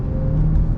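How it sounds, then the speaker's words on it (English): A car passes nearby on a road, heard from inside a moving vehicle as a steady low rumble and engine drone that swells slightly toward the end. "And you can hear this car."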